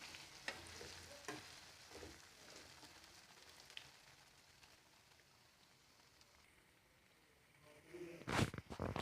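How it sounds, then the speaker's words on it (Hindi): Chilli potatoes stir-frying in a pan, with a steady sizzle and scraping stirs clustered near the start, then a loud burst of stirring and clatter near the end. No speech. "इसे हिला देंगे, मिक्स कर देंगे इसके बीच में, ताकि ये अच्छी तरह से फ्राई हो सके"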